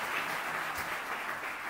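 Gala guests applaud a speaker, a dense even wash of many hands clapping at once, steady and somewhat distant, filling the room without any speech over it.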